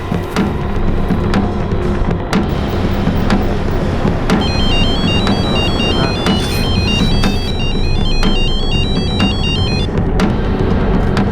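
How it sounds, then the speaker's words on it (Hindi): A phone ringtone plays a repeating electronic melody over steady background hum, with a few sharp clicks, and no one speaks. "सुनिए, आप जुबैर भाई को फोन लगाइए अभी"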